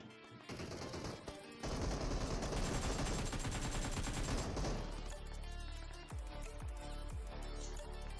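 Rapid bursts of AKM rifle fire from the PUBG battle royale game in a conqueror-tier lobby, a dense sustained volley running for several seconds before breaking into a few separate, heavier shots near the end.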